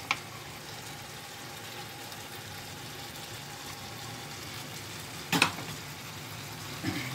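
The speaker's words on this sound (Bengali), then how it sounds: "এটা 5 মিনিট খুব ভালো করে ভুনে নিয়েছি।" Chicken bhuna masala sizzling quietly in a pan, a faint even fry hiss throughout with a sharp clatter of a utensil near the end.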